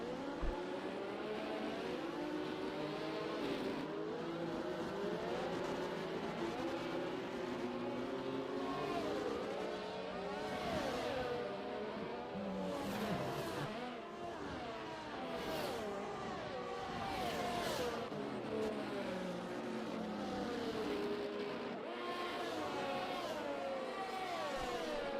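Race cars at Monza in a racing video game roll in a bunched pack behind the safety car, a steady overlapping drone of engines with shifting pitch sweeps, continuous and moderately loud with no talking.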